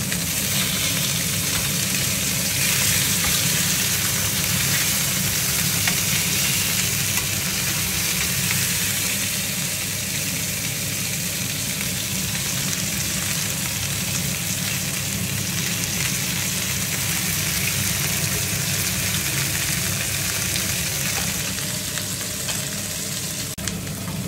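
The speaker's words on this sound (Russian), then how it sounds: "в обязательном порядке обжарьте, дайте мясу зажариться и по краям" Beef chuck roll steak searing in a hot pan, a loud, dense, continuous sizzle close up that holds steady throughout with no talk.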